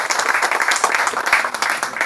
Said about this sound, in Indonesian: Mari kita tepuk tangan bagi dia.